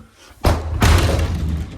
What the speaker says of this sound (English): This must be the wind. It keeps closing doors.